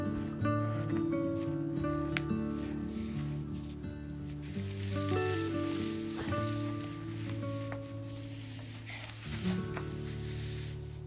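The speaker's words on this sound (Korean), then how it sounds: "몸은 고되지만 갈퀴질하는 소리는 참 평화롭습니다" Scratchy, rustling sweeps of a rake dragging through straw, repeating steadily under soft background music.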